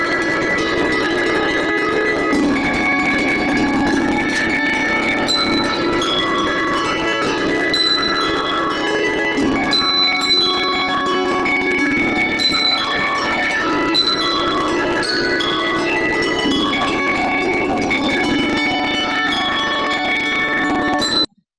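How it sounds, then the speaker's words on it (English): A bell choir rings cascabel bells in a steady stream of bright, overlapping tones and chiming melodic strikes, loud and continuous for over twenty seconds before stopping abruptly. "Those are the bells."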